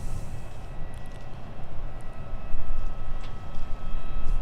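An Aer Lingus airliner taxis at Minneapolis–St. Paul airport, with a steady low engine rumble and a faint whine that swell slightly over a few seconds, heard alone.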